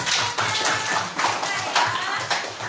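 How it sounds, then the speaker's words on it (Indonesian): A class of children claps hands together in a rhythmic series of sharp, fairly close claps, roughly regular beats repeating through the short span with a little room noise beneath. "Oke, tepuk tangan dulu."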